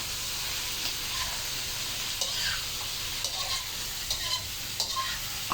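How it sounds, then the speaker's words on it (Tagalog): Onion and garlic fry in a pan while being stirred, making a steady, moderately loud sizzle with scattered light scrapes and clinks of a utensil throughout. "haluin muna natin sa ano natin sa sibuyas at bawang"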